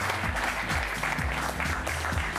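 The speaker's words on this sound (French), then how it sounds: "Bienvenue à Yves Lemaire qu'on va applaudir" Applause from a TV studio audience greets a guest, a steady dense clapping that fills the short span, with some low tonal sound underneath.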